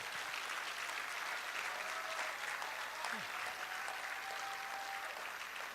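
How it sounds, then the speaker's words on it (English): An audience applauds graduates at a Ghana College of Physicians and Surgeons meeting, steady, even clapping heard faintly at a distance with a few voices underneath. "So a final round of applause for all our graduates."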